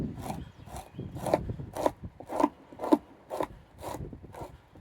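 A knife scrapes gristle and fat while fleshing an otter hide, giving a close, rasping scrape in a run of about nine evenly spaced strokes with no talking.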